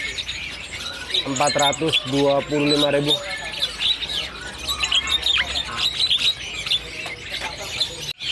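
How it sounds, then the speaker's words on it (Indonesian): Adult Asian pied starlings (jalak suren) call at a bird-market stall, a run of loud harmonic whistles and squawks near the start amid constant chirping from other caged birds, with someone talking throughout. "Ini jalak suren dewasa teman-teman"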